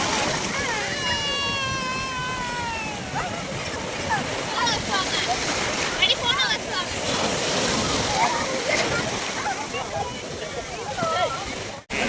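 Sea waves at a beach by the temple town of Tiruchendur wash and splash continuously close by, loud and sloshing, while excited voices and shrieks of people bathing carry over the surf.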